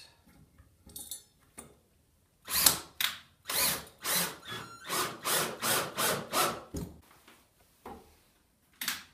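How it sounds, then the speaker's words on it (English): A power drill drives a screw to fix a fence rail hanger into place on a wooden rein board, with a run of repeated close, loud whirring bursts after a few light handling knocks. "And then go ahead and screw that fence rail hanger"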